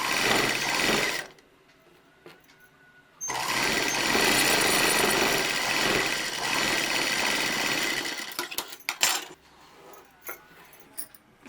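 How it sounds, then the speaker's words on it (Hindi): A sewing machine stitches a 2-inch fabric strip onto a frill frock in two loud runs, one short and then a longer steady whir, followed by scattered clicks and handling noises. "इस पर एक दाब सिलाई लगा लेंगे।"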